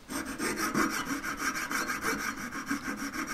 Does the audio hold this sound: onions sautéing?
no